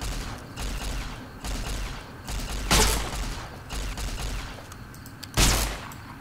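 Gunfire in the video game Fallout New Vegas: sustained bursts of shots and mechanical clatter, with two sharp, loud booming blasts standing out near the middle and end.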